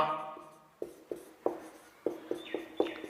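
Notes written by hand, a series of about eight distinct taps and short scratching strokes at an uneven rhythm, close and fairly clear, following a faint fading tone.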